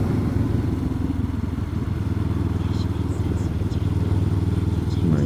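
A Benelli TRK 502X or 702X motorcycle engine drones steadily while riding, with loud, constant low rumble mixed with wind rush, and no clear revving changes.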